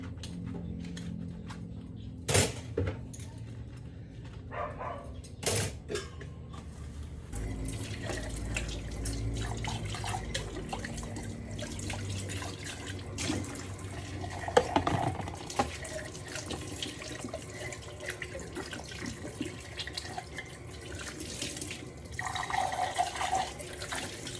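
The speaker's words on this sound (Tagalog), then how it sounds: "time naman para maghugas ng pinagkainan" Dishes being washed by hand at a kitchen sink, with a tap running steadily, water splashing, and occasional clinks and knocks of plates close by, no talking.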